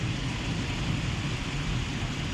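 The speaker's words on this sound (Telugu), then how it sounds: "ఘోరంగా అయితే వర్షం పడుతుంది." Heavy rain pours down at Palm Jumeirah in Dubai during a flooding storm, a dense, steady roar of falling water close by with no voices.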